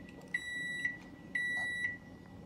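Microwave oven signalling that chocolate has finished melting: two sustained electronic beeps of equal length, each about half a second, clear over a quiet kitchen background.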